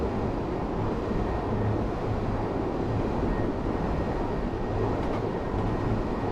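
Train running in Train Sim World 3 on the ScotRail Express between Edinburgh and Glasgow, a steady loud rumble of wheels and motor that holds unbroken throughout, with no voices.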